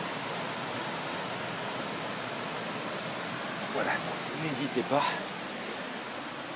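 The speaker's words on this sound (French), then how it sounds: "Nous avons le ruisseau qui passe juste là" A mountain stream flows beside the Chichit thermal baths in a forest of the Aspe valley, a steady broadband rush of water with a brief voice speaking partway through.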